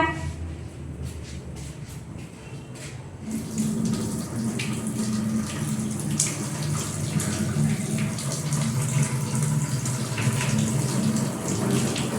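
Water drained off cooked papaya and carrot pieces for a pickle, starting with faint clatter and then a steady, close rushing pour that runs for the remaining nine seconds.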